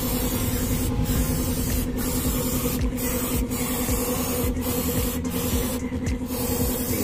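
Spray cleaner hisses steadily for several seconds in quick repeated bursts onto the body of a Nissan Roox being cleaned, loud and close, with no voices.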